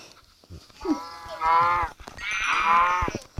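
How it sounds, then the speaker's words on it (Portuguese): Cattle mooing in a survival video game, two drawn-out moos in quick succession, fairly close and clear, with a few short background noises around them. "Tô matando todas as vacas."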